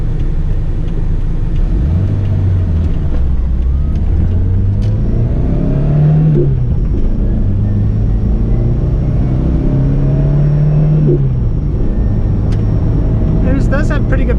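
A 1985 Toyota Corolla II SR AL21 engine hums steadily while driving, with its pitch climbing and dropping through several gear changes, loud and close in the cabin under occasional talk.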